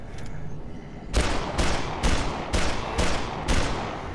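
Gunshots in the zombie game Dead Island: after a quieter opening, six loud, evenly spaced shots ring out about half a second apart, close and punchy, over steady background noise.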